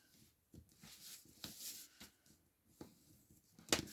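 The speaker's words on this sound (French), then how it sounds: "On marque bien ses plis." Paper being creased by hand into the folds of a handmade gift pouch, a series of soft, close crinkling presses and brief sharper crackles, with short pauses between strokes.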